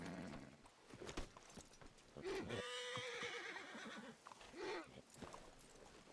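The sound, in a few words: horse neighing and hooves in a video game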